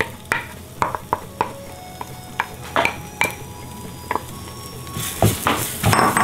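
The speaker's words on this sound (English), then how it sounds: "This will start to stick a bit, but don't worry, keep stirring it." Moong dal mixture stirred with fried gram flour in a pan over medium heat, a soft sizzle under repeated sharp scrapes and clinks of a spoon against the pan at an uneven rhythm, growing busier toward the end.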